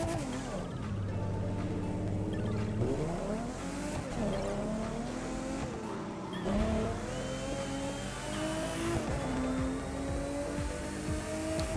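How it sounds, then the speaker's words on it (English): Car engines from the racing video game The Crew 2, revving and shifting through gears with rising and falling pitch sweeps, tire squeal and skids mixed in, continuous and loud for about twelve seconds. "let's have a different engine noise"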